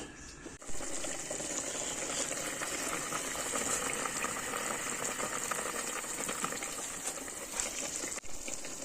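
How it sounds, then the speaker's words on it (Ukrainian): A pot of pine cones boiling in water for jam gives a steady, loud, close bubbling and hissing simmer that runs without a break from start to finish. "Наші шишки закипіли."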